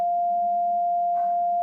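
A synthesized sine wave at the third harmonic of an E note rings at one fixed pitch, steady and clear for about a second and a half, with a faint rustle partway through.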